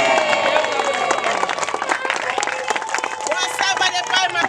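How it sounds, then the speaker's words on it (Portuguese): Enthusiastic audience applause at a church-style gathering of a women's association, dense rapid clapping with crowd voices rising through it, loud and sustained. "Uma salva de palmas para a glória do"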